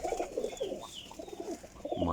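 Paired racing pigeons coo in steady, overlapping low warbles in a loft, the layered calls rising and falling close to the microphone with no talking.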